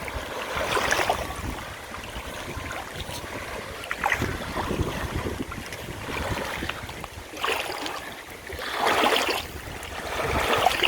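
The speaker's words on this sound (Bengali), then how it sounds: "এই যে লঞ্চ গেল, এই জন্য ঢেউ আসতেছে।" Waves from a passing launch's wake wash against a riverbank, surging in broad swells every few seconds over steady wind buffeting the microphone; no voices.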